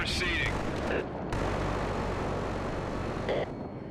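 Sustained loud rapid gunfire from a minigun in the shooter game Killzone 3, a dense continuous roar broken by brief gaps with in-game blasts, with no talk over it.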